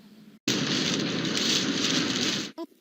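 Freezing rain falls in a powerful winter storm, a loud, dense, steady hiss that starts abruptly and cuts off sharply near the end.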